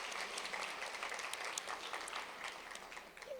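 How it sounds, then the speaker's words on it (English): An audience at a city neighborhood awards ceremony claps in a steady, fairly faint burst of applause that thins slightly toward the end. "But let's give them a round of applause."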